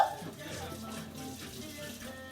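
Hot water runs from a kitchen sink tap in a steady, hissing stream, moderately quiet and continuous after a brief louder start.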